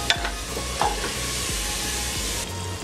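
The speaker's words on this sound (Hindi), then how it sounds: "मसालों को अच्छे से भूनेंगे तब तक जब तक कि तेल आपके सरफेस पे नहीं आ जाता" Spice masala frying in oil with a splash of water, a close, even sizzle with a couple of sharp scrape ticks from a spoon early on and a brief low rumble near the end, no voices.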